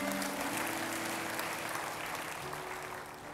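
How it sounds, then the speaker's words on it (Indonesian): Congregation in a church applauding together, a dense, sustained wash of clapping from many hands that holds steady and tapers slightly at the end. "Kasih tepuk tangan buat Tuhan Yesus."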